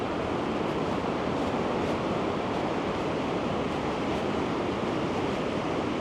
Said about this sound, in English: get ready for this waterfalls, eh? The Horseshoe Falls.